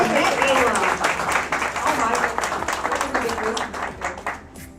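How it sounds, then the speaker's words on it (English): Audience applause for Tommy Hilfiger at a designers retreat, a crowd clapping loudly with voices mixed in, gradually tapering off toward the end. "Give him a hand clap"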